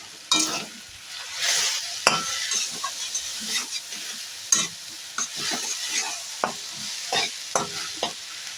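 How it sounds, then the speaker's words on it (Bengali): Jute greens with slit green chillies, salt and turmeric frying in a pan, stirred steadily: a continuous sizzle broken by repeated scraping strokes of the spatula, close and moderately loud, with no voices. "আমি 20 সেকেন্ড পর্যন্ত নাড়ি চাড়িয়ে নিয়ে শাকটাকে"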